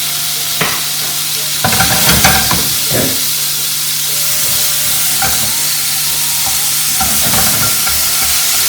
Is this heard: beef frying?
yes